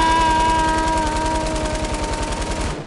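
Rapid automatic gunfire from a Fortnite video game sounds as a fast, evenly spaced burst of loud shots that holds steady for nearly three seconds before cutting off.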